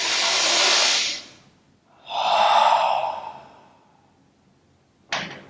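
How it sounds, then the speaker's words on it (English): A deep breath taken during a guided meditation: a long, airy inhale, a pause, then a slow, softer exhale, close and alone with no speech, ending on a brief sharp sound. "So let's take a deep breath."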